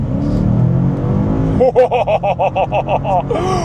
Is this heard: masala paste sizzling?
no